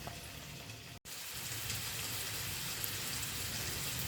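Pan of water on the stove with chopped small onions, garlic, green chili and tomato cooking in it, a steady soft bubbling sizzle close by, briefly cut off for an instant near the start.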